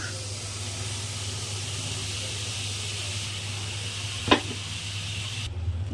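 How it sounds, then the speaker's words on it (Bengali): Jaggery sizzles and bubbles steadily and low in a hot wok, continuous throughout, with one brief sharp clink near the end. "দেখো গুড়টা কিন্তু খুব সুন্দরভাবে ফুটে উঠেছে।"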